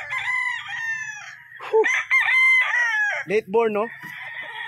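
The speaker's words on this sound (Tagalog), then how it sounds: "Daming manok." Several roosters crow nearby, one after another, with clucking chickens in between and a short spoken question mixed in.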